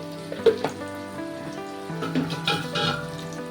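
Pointed gourd and potato pieces frying in oil with salt and turmeric, giving a soft steady sizzle with scattered crackles and faint clinks, close and moderately quiet, with no talking.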